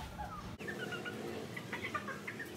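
A black Aseel rooster, ill and on medicine, makes low, soft clucking and murmuring sounds over steady background noise, with a short sharp click near the start.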